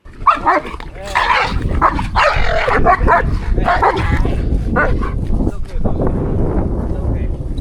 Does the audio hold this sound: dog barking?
yes